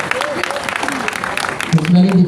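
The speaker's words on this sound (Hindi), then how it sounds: "जोरदार तालियां" Applause from a classroom crowd at a coding class, with voices mixed in, steady clapping throughout and a louder voice rising near the end.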